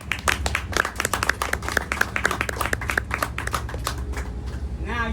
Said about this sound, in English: start it off with a big round of applause